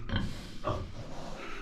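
A pig grunts a couple of short, low times up close on a farm, over a steady background hum.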